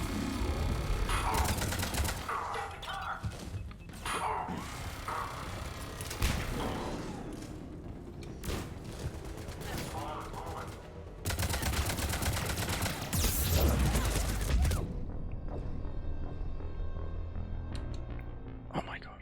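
Automated turrets in Mass Effect Legendary Edition pour out sustained bursts of rapid gunfire, loud and dense, with heavy blasts, while game sounds and voices mix in before it cuts off near the end.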